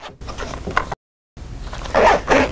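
A zipper on the top loading pocket of a plate carrier plate bag is pulled in short rasping strokes, close and clear, with a louder, longer zip at the end after a brief silence.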